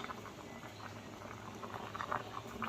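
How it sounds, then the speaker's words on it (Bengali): Seem (flat bean) seeds simmering in salted water in a pot, giving a steady soft bubbling patter that stays low and even throughout, with no voices. "এটা এখানে সেদ্ধ হচ্ছে।"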